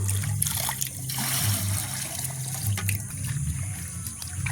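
Water is scooped by hand from a dug pit in a village garden and poured into a watering can, a steady trickling and splashing that runs continuously against outdoor ambience.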